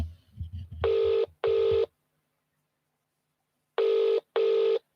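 Telephone ringing tone heard during a call, two pairs of short electronic rings separated by silence, clear and fairly loud, preceded by faint low rumbling.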